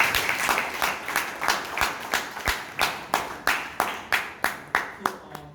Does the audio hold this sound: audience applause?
yes